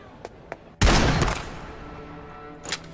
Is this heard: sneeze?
no